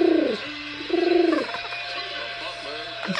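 A pet bird vocalizes indoors in a close, loud, warbling run of cooing, whistle-like notes, rising and falling across several phrases, with soft human voices now and then in the background.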